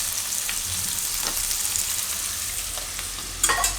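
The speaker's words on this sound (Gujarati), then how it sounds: "ડુંગળી આ રીતે થોડીક વાર પકાવી લીધી છે" Chopped onions fry in hot oil in a pan, a close, steady sizzle with a few scraping stirs and a louder stir near the end.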